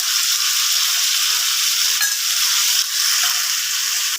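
Turmeric is added to a frying pan, where it sizzles in a loud, steady hiss with a brief clink partway through and no speech.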